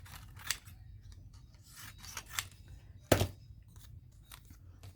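Scissors cut through paper for a collage in a string of separate snips, quiet and close, with one sharper crunching cut standing out partway through.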